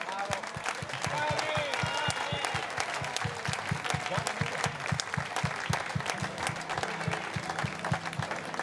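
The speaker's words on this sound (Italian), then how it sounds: "Nicolas, Adamo, fate sentire l'applauso forte." A crowd at an outdoor evening concert in Piazza Manzoni, Jesolo, applauds steadily and loudly for several seconds, with dense rhythmic clapping, a few cheers, and some voices mixed in.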